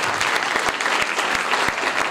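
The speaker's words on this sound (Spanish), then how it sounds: "doble aplauso para el teatro y para la familia audiovisual." An audience at the official presentation of the 37th Provincial Theatre Meeting in Concepción del Uruguay bursts into loud, sustained applause, thick clapping with a few heavier low thumps scattered through it, no speech on top.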